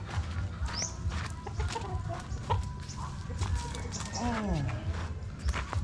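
Backyard chickens on a Philippine farm on vaccine day cluck and squawk softly nearby, with footsteps shuffling and someone talking over them.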